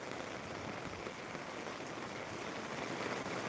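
Heavy, steady rain falls continuously on surfaces, a dense, even hiss of drops at constant loudness with no pauses or voices.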